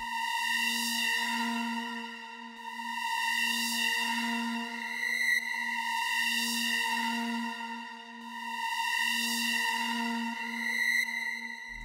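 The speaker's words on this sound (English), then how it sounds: "kind of like an ambient, like tonal white noise type of thing from Hive" A sustained ambient tonal pad from the Hive synth, a bright harmonic drone with a noisy airy top that swells and fades in slow waves about every three seconds, playing alone and steady throughout.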